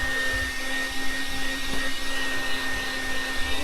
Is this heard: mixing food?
no